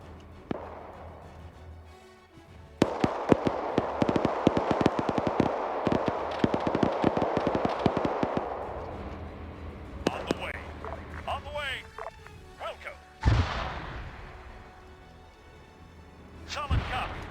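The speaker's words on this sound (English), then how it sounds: "now you got gunshots" Gunshots in a WW2 military game near a trench line, a rapid irregular volley of sharp cracks rising out of quiet, mixed with radio-style voices talking and a heavy boom later.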